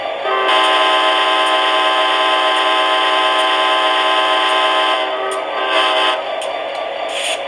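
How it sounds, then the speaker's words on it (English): An MTH model Amtrak F40PH locomotive horn held down long, a loud steady multi-tone chord sounding for several seconds, then wavering and briefly re-sounding as it trails off, with no voices. "if you hold the horn button down for a longer period of time, it will actually kind of quill off"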